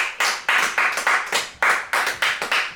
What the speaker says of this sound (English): Congratulations, hand clap